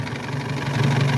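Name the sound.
vintage Alvis 12/50 inline four-cylinder overhead cam engine idling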